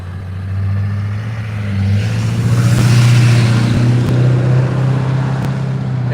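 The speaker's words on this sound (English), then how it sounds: "when these cars go by this morning, just watch this light blink, and here a vehicle comes" Cars drive past on a morning street, a steady low engine hum that swells to a peak midway as a vehicle goes by, then eases off gradually.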